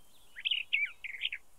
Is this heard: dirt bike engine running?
no